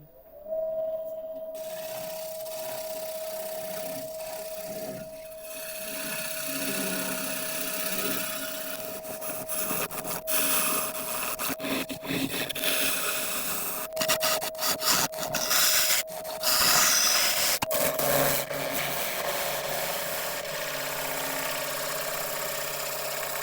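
Carbide woodturning tool cutting London plane on a lathe, a steady motor hum running beneath a rough, scraping cut that comes and goes in irregular bursts, with brief sharp catches near the middle and the lathe droning throughout.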